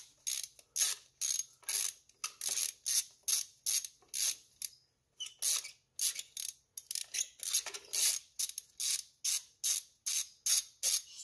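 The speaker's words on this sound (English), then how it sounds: "Once I feel like it's to the top, I put it back on the ratchet." A hand ratchet turning a spark plug on a BMW 340i's B58 engine, giving a steady run of sharp metallic clicking bursts at an even pace with one short pause partway, close and loud with no talk.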